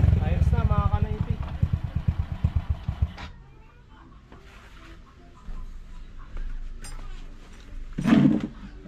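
A Honda Wave 100 motorcycle engine idles after carburetor cleaning, a steady low pulsing chug that is strong at first, then fades to a quieter background hum, with a person talking nearby.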